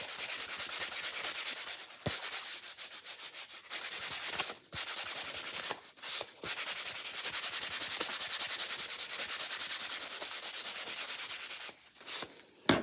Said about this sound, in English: I'm just going to wax these real quick